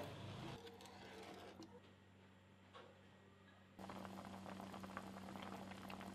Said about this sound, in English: let it cook until the milk comes to a boil